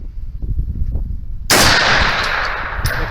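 A PWS MK216 rifle fires a single sharp, loud shot about halfway through, after quiet low rumbling, and the report rings and decays over the following second.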